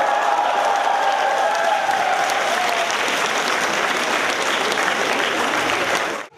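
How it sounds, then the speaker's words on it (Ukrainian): Dense, steady applause from a concert audience greeting a band in Sievierodonetsk, loud and continuous with a faint tonal sound early on, cutting off abruptly at the end. "Бурхливими оплесками глядачі не тільки зустрічали артистів, а й супроводжували чи не кожен їх виступ"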